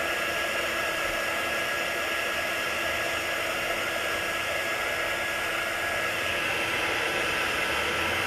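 A hair dryer blows steadily on freshly painted nail polish, producing a loud, constant, even whoosh of air with no breaks and no voices.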